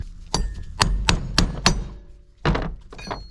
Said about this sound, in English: Maybe I can hammer it out at this point.